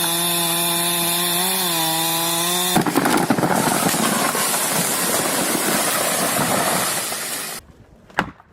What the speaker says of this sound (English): The tension is palpable as the chainsaw buzzes and the tree begins to lean